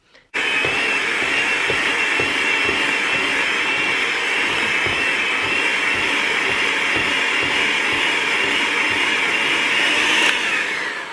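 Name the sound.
electric mixer breaking down paper pulp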